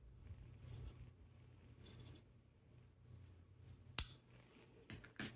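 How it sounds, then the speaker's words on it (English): Scissors snip through folded bag material to cut it in half, giving a few quiet, scattered cuts with soft rustling between them and one sharp click near the end in an otherwise hushed room. "And I have to cut this in half."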